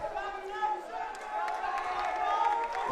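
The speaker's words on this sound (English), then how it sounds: "The crowd are on their feet." Spectators at a Paarl Gim versus SACS first XV schoolboy rugby match roar and cheer in a steady crowd swell, with commentary talking over the noise.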